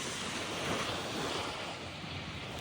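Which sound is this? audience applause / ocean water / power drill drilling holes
ocean water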